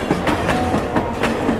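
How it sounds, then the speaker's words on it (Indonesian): A Thomas & Friends toy train running on its track, giving a fast, regular clicking rattle with repeated taps close by. "Oke, kita sambung keretanya. Oke, bersiap berjalan."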